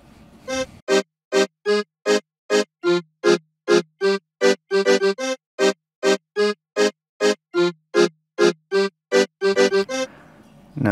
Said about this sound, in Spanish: yo lo utilizo para hacer lo que es el acordeón